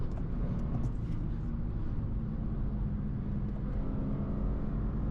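A BMW car on a street, its engine and tyre noise forming a steady, fairly loud rumble throughout with no clear rise or fall.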